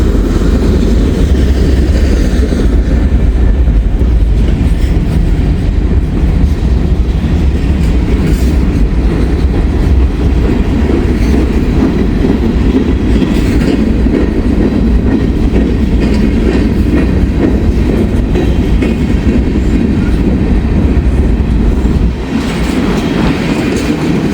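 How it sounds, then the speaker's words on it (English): A long freight train hauled by a single locomotive rolls past. The rumble is loud and steady, with rhythmic clickety-clack of the wagons on the rails, and it runs on without pause, easing slightly near the end. "This is crazy how they put one locomotive on a train this size."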